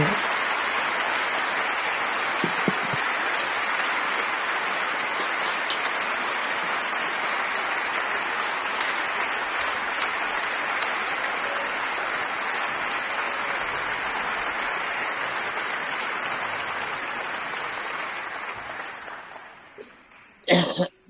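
A concert audience applauds in a long, steady wash of clapping that fades out near the end, followed by a few brief sounds.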